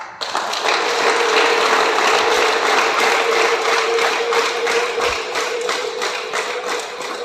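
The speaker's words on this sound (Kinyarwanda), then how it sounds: "Imana muyongera amashyi n'impundu" A church congregation claps loudly and steadily in continuous applause, with a sustained high trilling ululation running through it, close and filling the room.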